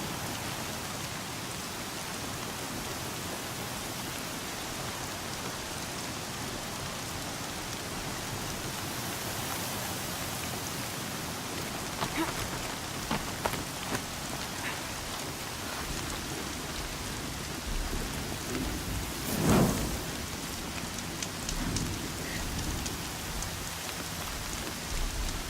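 A heavy rainstorm in the video game Horizon Zero Dawn, with dense steady rain hiss throughout and a low thunder rumble swelling near the end, with no voices.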